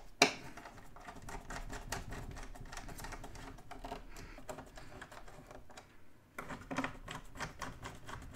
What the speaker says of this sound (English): I'm going to use my T8 screwdriver again and then put these screws back in here